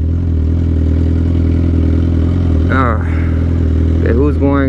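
A 2008 Suzuki GSX-R 1000 with a straight-pipe exhaust idles loud and steady up close, its deep throb continuous throughout, with a brief voice-like warble near the end.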